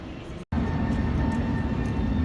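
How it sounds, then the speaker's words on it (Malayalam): A tram rolls into a Prague street with a steady broadband rumble and rail hum after a brief cut, close and continuous, with faint talk mixed in. "വേറൊരു ട്രാം എത്തി."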